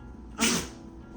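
One short, sharp sneeze from a small dog, a quick breathy burst against a quiet room.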